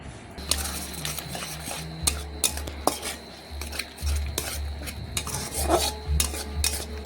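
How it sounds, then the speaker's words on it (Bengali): Mustard paste with a pinch of salt being stirred and fried in a wok, a spatula repeatedly scraping and clanking against the metal over a faint sizzle, close and uneven in rhythm. "একটু এইভাবে নাড়াচাড়া করে ভেজে নিচ্ছি"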